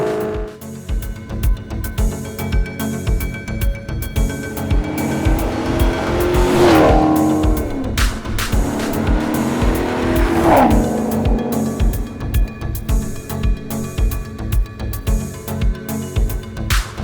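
A Maserati GranTurismo in sport mode roars loudly nearby, engine revving hard through repeated rising sweeps with tire squeal and a sharp, snarling exhaust, no talking.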